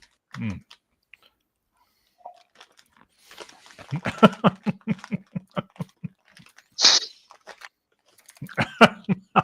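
Someone eats candy-coated biscuits close to the microphone, with sharp crunchy bites and bursts of chewing in clusters separated by quiet gaps, and a few brief voice sounds mixed in.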